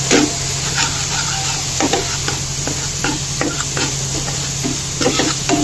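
Spices with red chili powder frying in a pan are stirred over a loud, constant sizzle, with regular scraping strokes repeating close up every half second or so; no one speaks.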